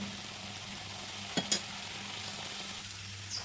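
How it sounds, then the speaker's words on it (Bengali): Paneer patty filling stirred in a pan, a low sizzle running under a couple of brief scraping strokes, with no one talking. "তো হালকা করে আবার একটু নাড়িয়ে দেবো"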